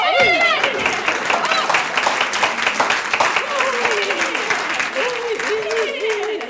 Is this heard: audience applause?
yes